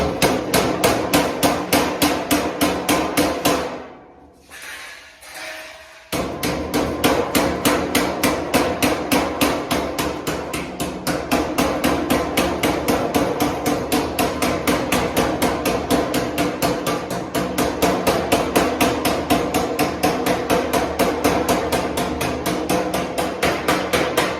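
A body hammer tapping sheet metal on a Chevy LUV drag truck build, a long series of rapid, evenly spaced sharp metallic strikes, loud and close, with one brief pause before the steady tapping resumes.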